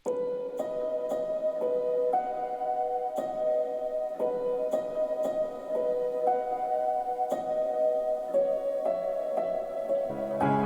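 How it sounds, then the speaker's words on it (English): A gentle soft piano from Labs plays a repeating melodic phrase in a folk pop song, with soft, evenly spaced notes, each ringing out into a wash of reverb. "Then we have this motif that's being played by the soft piano by Labs,"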